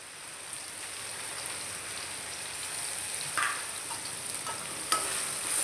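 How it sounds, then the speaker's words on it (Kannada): Ginger garlic paste frying in a pan, a steady soft sizzle with a couple of brief stirring scrapes partway through; no one speaks. "ಈಗ ಚಂದ ಫ್ರೈ ಆಗಲಿ ಈಗ ಸ್ವಲ್ಪ ಹಸಿ ವಾಸನೆ ಹೋಗ್ಲಿ ಅದರದ್ದು"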